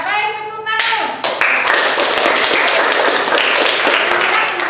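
Students clapping together in a classroom, a sudden burst of sharp, close hand claps that breaks in after a brief spoken line and carries on steadily to the end.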